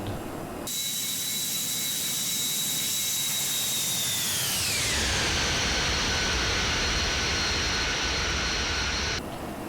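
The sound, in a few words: airplane jet engine during climb, X-Plane 11 video game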